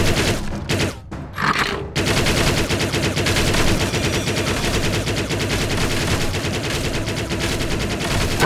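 Rapid sustained gunfire from a triple-shot weapon in the arcade shooter Attack of the Movies 3D, a dense loud fusillade that starts with a few short bursts and then runs as continuous machine-gun-like fire to the end.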